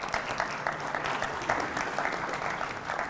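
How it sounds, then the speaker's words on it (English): Audience at an industry Q&A launch event claps steadily, a dense moderate round of applause from a crowd, fairly distant, sustained without a break. "Give yourselves a round of applause."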